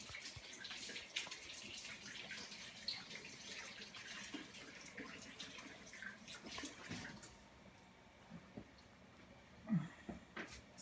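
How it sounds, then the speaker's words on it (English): Water runs steadily from a tap while hands are washed during a gak-making session at home, a moderate continuous splash that thins out toward the end with a few brief louder spatters. "I'm just going to wash my hands."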